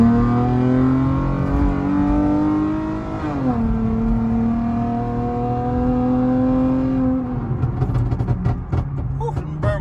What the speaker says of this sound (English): them burbles get loud as shit when the car don't got nothing good on inside